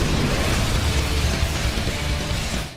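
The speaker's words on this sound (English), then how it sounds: "we have Saitama's killer move, Serious Series, Serious Punch versus Boros Collapsing Star Roaring Cannon" Anime explosion effect from Saitama's Serious Punch clashing with Boros's Collapsing Star Roaring Cannon in One Punch Man, a loud sustained roaring blast with dense low rumble that holds steady for nearly three seconds before easing off.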